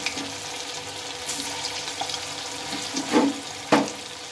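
Pieces of food are dropped one by one into hot oil, and each drop brings a sharper burst of crackle. Between the drops a steady frying sizzle continues, close and moderate in level.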